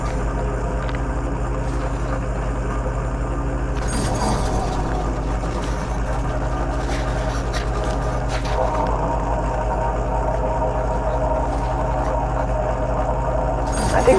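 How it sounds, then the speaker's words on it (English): A Nissan GTR R35 engine in Car Mechanic Simulator 2021 drones steadily at a constant pitch, with brief bursts of revving and hiss partway through, loud and close throughout. "I think these car sounds are a little inaccurate."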